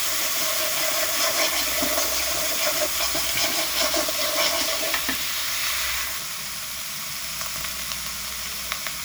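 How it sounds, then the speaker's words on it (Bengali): Onion paste, cumin and garam masala with a splash of water fry in a pan, giving a loud, close, crackling sizzle with stirring scrapes. It softens to a gentler steady hiss for the last few seconds. "আমি পেঁয়াজ বাটা, জিরে, গরম মশলা আর কয়েক ফালি কাঁচা জল দিয়ে নিচ্ছি। এটা ভালো করে কষিয়ে নিতে হবে।"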